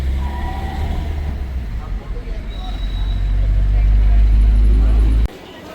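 Steady, loud road traffic near the Tirupati temple in Tirumala early in the morning: a continuous low rumble of passing vehicles with faint crowd chatter, cutting off abruptly near the end.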